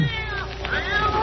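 A cat meows several times in a radio horror drama scene, wavering, drawn-out cries close to the microphone, with a voice speaking briefly alongside.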